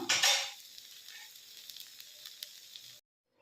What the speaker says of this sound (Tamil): ஒரு தோசைட்டி அடுப்பில் வச்சு அந்த மாவை தோசையாக சுட்டு எடுத்துக்குவோம்.